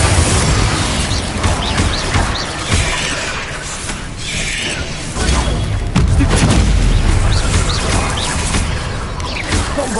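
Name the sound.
Confringo fire blast spell explosions in video game Hogwarts Legacy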